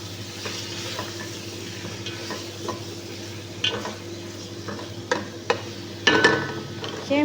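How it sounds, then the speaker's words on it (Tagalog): Chicken yakhni pulao being stirred in a pot, a low steady simmer and hiss broken by scraping and clinks of a spoon against the pot that grow sharper near the end, close by with no talk. "Haluin lang natin."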